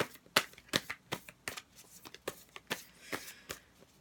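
Tarot cards being shuffled in a large, unwieldy deck, heard as a steady series of crisp riffles and slaps up close, fairly soft and without speech.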